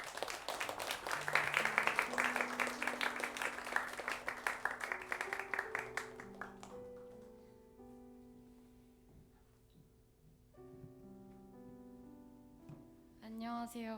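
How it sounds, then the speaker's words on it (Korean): A church congregation applauds to welcome a young speaker: dense clapping for about six seconds that tapers off as sustained keyboard or organ tones carry on softly underneath and then alone. "큰 박수로 맞이해 주십시오"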